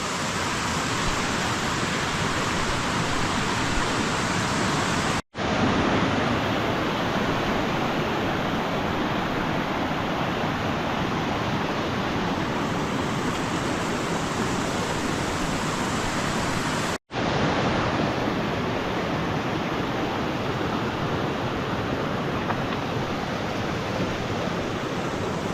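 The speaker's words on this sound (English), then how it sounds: "The water's flowing good, and it's going to get noisy for the next little while." Loud, steady rush of fast-flowing creek water in a canyon on the Malans Peak trail fills the whole stretch, a constant broadband roar with no voices and only two brief dropouts.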